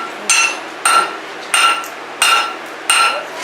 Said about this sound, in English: Watch him hammer.